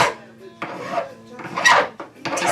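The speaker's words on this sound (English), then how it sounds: "I'm going to start off with kind of a broad, a little bit of a coarser file" A coarse hand file rasps across the ends of metal wire for a wire cuff, in slow, uneven strokes with short pauses between them, close and fairly loud.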